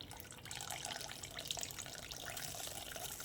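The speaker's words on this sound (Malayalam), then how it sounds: "എന്നിട്ട് ആവശ്യത്തിന് വെള്ളവും കൂടെ ഇതിലൊഴിച്ച് കൊടുക്കണം." Water is poured into a thin Kerala-style fenugreek rasam, a soft, steady splashing trickle that starts after a brief quiet moment and carries on faintly to the end.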